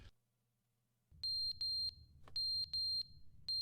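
In a Sims-style video game, a smoke alarm sounds after a brief silence, sending out a run of loud, shrill, evenly spaced electronic beeps in pairs over low background rumble.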